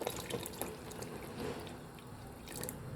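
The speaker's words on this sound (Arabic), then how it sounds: "هنزل باللبن 2 كيلو لبن على كوبايه رز" Milk being poured into a pot of cooked rice while making creamy rice pudding, a steady liquid splashing and trickling close up that runs alone throughout with small drip-like accents.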